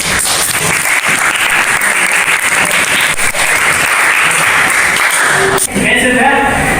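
Loud, close, sustained clapping from a group in a classroom or training session after a presentation, continuing throughout, with a brief sound near the end as it winds down.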